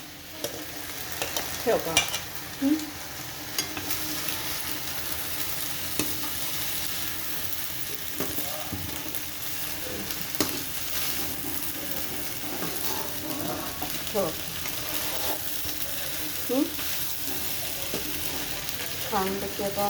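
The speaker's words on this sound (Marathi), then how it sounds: "छानपैकी आता आपण परतून घ्यायचा. हा सगळा भात" Cooked rice stir-fried in a pan for hakka noodles, soft steady sizzling broken by repeated clanks and scrapes of a spatula, with brief speech now and then.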